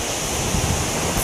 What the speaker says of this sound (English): It's a bit windy today, you can probably hear it.